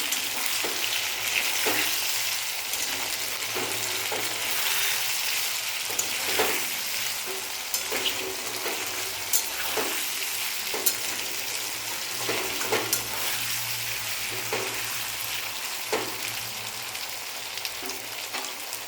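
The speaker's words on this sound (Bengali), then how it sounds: "এরপর প্রথমেই দিয়ে দেবো আদা বাটা, দিয়ে নাড়াচাড়া করে নেব" Ginger paste frying over a raised gas flame and being stirred in a pan, a steady close sizzle with repeated scraping and light tapping strokes throughout, no voices.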